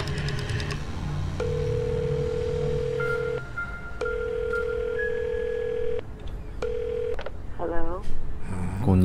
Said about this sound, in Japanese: こっちは白い電話だだから使えるんだここでタクシーを呼ぶ